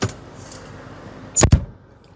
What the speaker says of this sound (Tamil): டோருடைய தட் எஃபெக்ட் கேட்குறீங்களா?